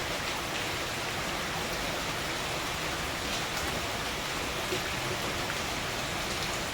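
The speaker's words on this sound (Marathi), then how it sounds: "पाऊस बघा किती मोठा आहे दुपारपासून पाऊस चालू झालाय खूप मोठा पाऊस" A heavy afternoon downpour makes a constant, dense roar of rain falling on surfaces, steady and enveloping throughout with no speech.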